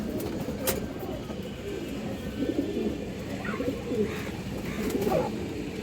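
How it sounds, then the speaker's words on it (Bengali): Old purple-necked pigeons at a farm give soft, low coos that come and go faintly against a steady background hum, with no voices. "এই কবুতরগুলো দর্শক কিন্তু খুবই পুরান কবুতর, বেগুনি গলা কবুতর"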